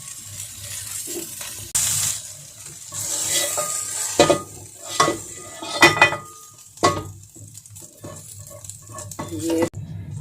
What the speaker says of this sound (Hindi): ये देखें हमने मिक्स कर दिया इस तरह मसाले में शिमला मिर्च को